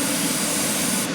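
A siphon-fed dual-action airbrush sprays clear coat onto a McLaren Honda MP4-30 scale model in a continuous, close, airy hiss that runs steadily for the whole brief moment.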